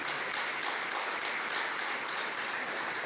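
A church congregation claps steadily throughout, a thick continuous wash of many hands with faint rhythmic pulses inside it.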